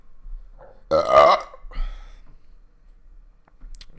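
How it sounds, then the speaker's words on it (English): A man lets out a loud, drawn-out burp close to the microphone, followed by a softer breathy sigh. "I got a burp."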